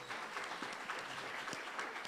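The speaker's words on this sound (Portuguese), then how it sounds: "Aplauda ao Senhor." A Baptist church congregation claps during a Sunday service, a brief burst of crowd applause at moderate level with a few individual claps standing out.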